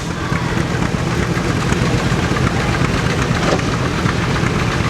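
An old John Deere tractor engine runs steadily at an outdoor steam engine show, a continuous close, loud idling chug with a low knocking rumble and no talk over it.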